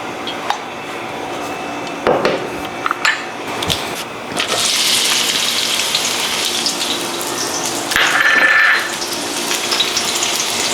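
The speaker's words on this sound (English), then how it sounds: "We're going to add in some oil and start sauteing our onion and garlic." Onion and garlic sauté in oil on medium-high heat, giving a steady hiss and sizzle after a few utensil clatters, with a brief louder burst of sizzling near the end.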